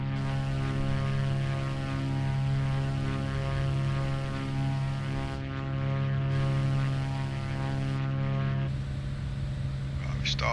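Propeller airplane engine in Microsoft Flight Simulator 2020, descending toward the runway for landing, a steady loud droning hum with strong harmonic tones that shift slightly near the end.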